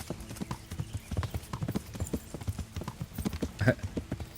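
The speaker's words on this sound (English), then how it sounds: "I'll go on horseback" Horse hooves clip-clop steadily at a quick, even pace in the video game Kingdom Come: Deliverance, close and fairly loud, with a brief whinny near the end.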